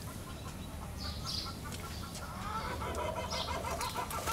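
In a garden at the Heybeliada Greek boys' school, a peacock gives two brief, moderately distant calls over a low, steady outdoor background.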